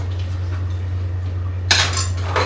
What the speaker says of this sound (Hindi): मैं धो लेती हूँ बर्तन